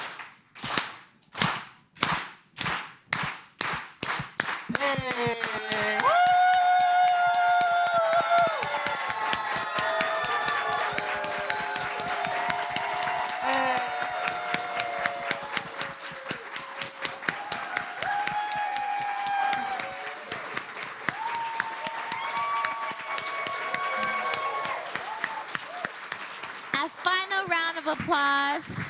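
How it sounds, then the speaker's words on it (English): An audience at a community event in Los Angeles welcoming fellows on stage starts with a unity clap, slow single claps speeding up into a loud, sustained crowd applause with cheers, close and filling the room, and a shout near the start. "we're going to welcome them with a unity clap"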